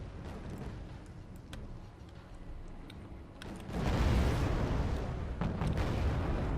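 Anti-tank missiles and heavy weapons fire on T-55 tanks in the Cold War strategy game Wargame AirLand Battle, dull distant thuds first, then a rushing roar of launches and blasts that swells and holds.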